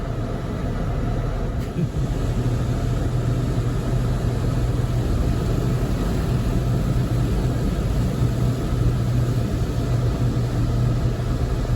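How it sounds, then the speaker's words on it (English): Constant heavy rumble and rushing roar inside an automatic car wash as water jets pound the car, loud and unbroken throughout with no talking. "We're at the car wash."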